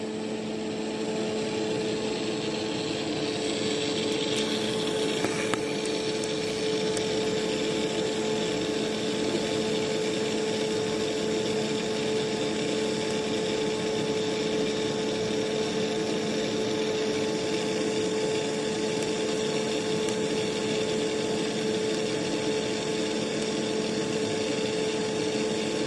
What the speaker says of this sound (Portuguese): vou fazer aqui agora uma corrente, um cordão de solda